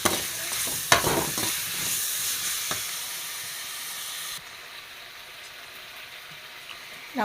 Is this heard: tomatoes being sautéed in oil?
yes